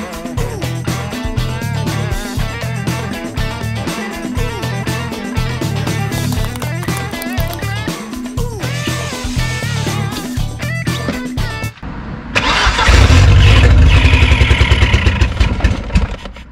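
A Ford Sierra station wagon engine, long stored as a barn find, sputters into life on brake cleaner sprayed into the throttle body, its loud, uneven firing clattering and running steadily before a louder burst near the end.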